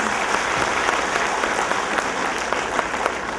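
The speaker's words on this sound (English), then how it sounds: "Children, please, big round of applause" Applause from an audience at a kindergarten annual function, honoring children who won first prize in an oratory contest; dense, steady clapping from many hands fills the room without a break.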